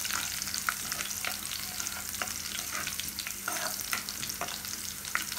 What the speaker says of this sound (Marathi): आता हे सोडेसुद्धा या लसणात छान परतले गेले पाहिजे.